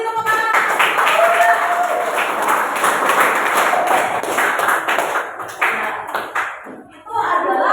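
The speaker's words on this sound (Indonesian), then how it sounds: "Beri tepuk tangan." A classroom of students applauds after a group presents its observations on condensation, a loud burst of clapping that holds steady for several seconds before tapering off, with a teacher's voice speaking over it.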